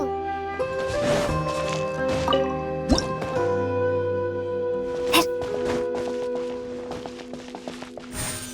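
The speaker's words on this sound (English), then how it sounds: "Wow, another water droplet just came out from the wall!" Water droplets emerging from a wall in Genshin Impact, heard as wet, squishy drips and plops over layered game music, with several distinct drip accents across the passage.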